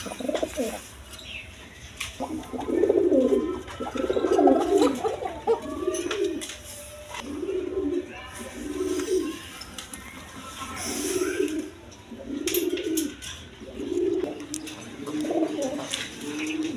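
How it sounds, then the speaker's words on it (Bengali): Large Raj Golla pigeons on a pigeon farm coo in a steady run of repeated low throaty calls, close and fairly loud, with faint chirps and a little wing movement in the background. "দেখেন একদম বিগ সাইজের কবুতর রাজগোল্লা কবুতর"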